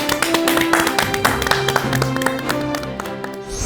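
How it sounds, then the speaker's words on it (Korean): Studio audience at a Korean televised lecture show clapping to welcome a climate-crisis professor onto the stage, a steady patter of claps mixed with bright music playing underneath throughout. "박수로 맞아주시기 바랍니다."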